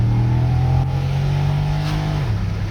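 An Impala SS with an LS4 V8 accelerates hard near the microphone, its steady loud engine drone rising in pitch before dropping sharply at a gear shift, with no talking.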